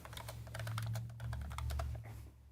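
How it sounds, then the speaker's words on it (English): Rapid clicking of computer keyboard keys, typed steadily in bursts over a low background hum, close and moderately quiet with no talking. "Typing with chat, interacting with chat here."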